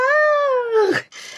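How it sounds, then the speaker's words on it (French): A domestic cat gives one long, loud, close meow that bends downward at the end, followed by a brief breathy rustle. "Mon chat qui fait des miaou miaou."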